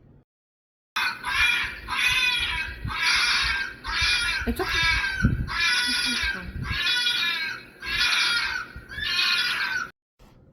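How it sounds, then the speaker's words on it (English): A vixen, a female fox, gives a run of harsh, shrill screams, about eight repeated bursts in a steady rhythm, loud and close, played back as a recording with a brief spoken word over it. "here is that vixen scream now"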